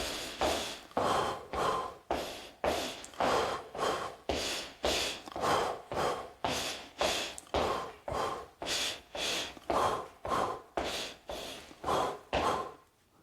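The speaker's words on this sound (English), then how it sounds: "That's the breathing rhythm" Rhythmic breathing during a meditative walk, with steady in-and-out breaths repeating in a regular cadence of about one per second, close and fairly loud with no talking.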